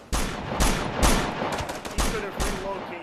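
Rifle fire in the Operation Flashpoint combat game: a string of five or six loud, sharp gunshots spaced roughly half a second apart, each cracking out and decaying, with no talk over them.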